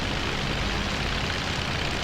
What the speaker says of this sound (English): There goes the bomber off.